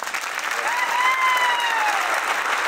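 Live audience at an Eid Qurban special evening show bursts into sustained applause, a thick, steady roar of clapping with a long whistle-like tone sliding up and down through the middle.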